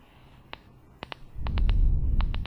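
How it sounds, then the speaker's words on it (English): Soft, quick clicking pops from a tongue against teeth, a few scattered ones then a rapid cluster over a low rumbling hiss, close to the mic. "I put my tongue right behind my front teeth and I just kind of make little bubbles"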